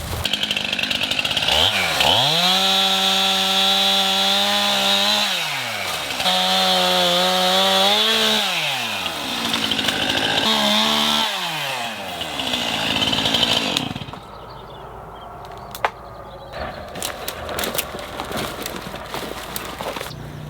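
A chainsaw that is not oiling itself revs loudly in repeated surges as it cuts willow while coppicing, then cuts out around two-thirds through, leaving quieter outdoor rustling and a sharp click.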